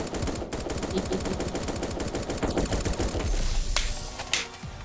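Rapid, sustained automatic gunfire rattles through a shooting video game, a dense burst of shots that thins out near the end with a couple of sharper single cracks.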